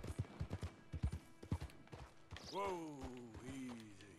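Horse hooves clip-clop in a steady rhythm, close and fairly loud, in Red Dead Redemption 2, followed by a drawn-out horse whinny or snort sliding through the second half.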